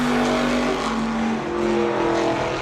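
A 350 small-block race car comes off turn four at Lee USA Speedway on a time trial lap, its engine a loud, steady roar that pulls past nearby with a slight pitch shift.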